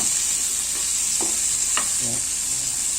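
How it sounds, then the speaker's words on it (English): Chicken with chili flakes sizzles steadily in a pan while being stirred, a continuous close frying hiss with a few soft scrapes and tonal utensil squeaks. "So let's keep on adding and stirring it for a while."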